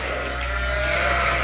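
Sheep on a working sheep farm call out in a continuous, fairly loud, droning bleat that holds steady from start to finish with no talking.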